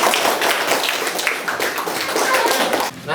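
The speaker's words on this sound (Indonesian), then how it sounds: "Tepuk tangan buat semuanya." A classroom of students claps loudly and quickly in a close, brisk burst, with a few voices in the background, before it stops abruptly near the end.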